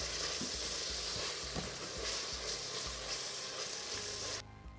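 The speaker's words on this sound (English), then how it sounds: "When it's almost brown, we're gonna add the garlic and stir that in." Onions, peppers and garlic sautéing in an Instant Pot, a bright steady sizzle with repeated spoon scrapes and stirring thumps, ending suddenly as the sizzle drops away.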